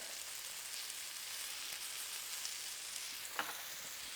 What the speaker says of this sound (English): you can see everything just starting to splatter